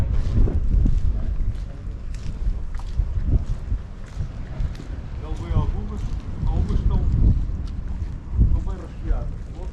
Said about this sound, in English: I can hear a boat